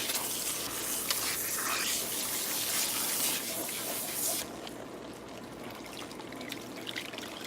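Lukewarm tap water runs through natural hair during a salon shampoo, making a soft, steady hiss that stops abruptly partway through and leaves a quieter background.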